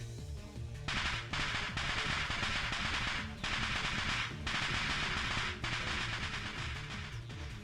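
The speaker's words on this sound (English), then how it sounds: "A sound like firecrackers resounds from the other side of the door. A dust explosion." Rapid crackling pops like firecrackers from a dust explosion behind a door burst out in several waves, sharp and fairly loud over a low rumbling background.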